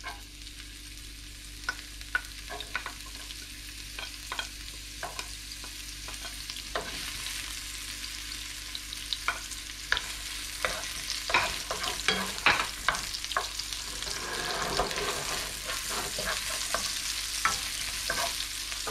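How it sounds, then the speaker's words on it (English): The white part of green onion hits very hot oil in a pan for egg fried rice, giving a steady close sizzle punctuated by sharp tapping and scraping of a utensil stirring. "Make sure the pan is really hot, and then this part go in first, the green onion, the white part."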